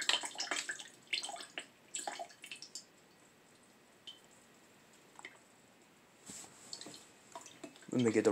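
Kool-Aid drink is poured into a container with soft splashing, dripping and trickling water sounds, intermittent and fairly quiet, broken up by rustling and a few sharper clicks near the end.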